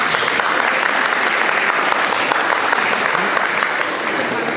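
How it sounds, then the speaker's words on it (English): Audience applause at a boys' Western Region all-star game: a dense, steady wash of clapping from a large crowd that holds at an even, fairly loud level throughout without a break. "And not able to make it today, let's also give a round of applause for Raymond Longo"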